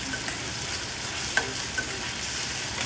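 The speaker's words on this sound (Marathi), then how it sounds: "आता हे चांगलं परतवून घेऊया" Chopped onions and ginger-garlic paste sauté in hot oil, a steady close hiss of frying with two or three light utensil clicks against the pan and no voices.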